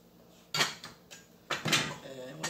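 Gotham Steel cookware lids being fitted onto pots, with three sharp metallic clanks and knocks spaced across a couple of seconds, close and fairly loud between quieter gaps.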